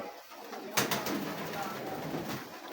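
A large pigeon cooing in a Gujranwala breeding setup, soft repeated coos over a steady hiss with a sharp burst near the start, fairly quiet and without talk.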